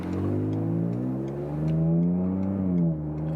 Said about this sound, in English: I like that exhaust a lot.